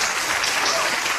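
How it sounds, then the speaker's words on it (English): A live audience at a magic show claps loudly and continuously for a winner of a psychic game show, a brief, dense burst of applause with a voice faintly under it. "Everybody give Christy a big round of applause for winning the psychic game show"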